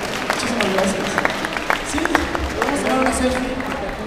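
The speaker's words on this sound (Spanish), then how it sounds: "Aplauso fuerte para ellos, aplauso fuerte, fuerte." An audience at a convention talk claps in a scattered burst, with a voice speaking over the applause and crowd murmur underneath.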